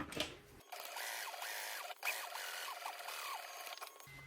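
A sewing machine stitches along the curved edges of tote handle cuffs, a quiet steady whirring run of a few seconds heard close with no talk.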